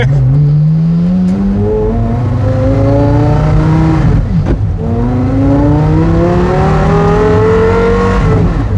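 Porsche Carrera GT V10 with straight pipes revving hard, a loud close engine climbing through rising pitch twice with a brief shift dip between pulls, no talk over it.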